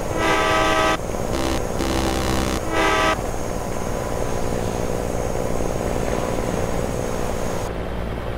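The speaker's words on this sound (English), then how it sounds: "the whole truck sounds like a train, man" A heavy truck's engine drones loudly in Euro Truck Simulator 2, overlaid at the start by a couple of long, train-like air horn blasts before the steady low rumble carries on alone.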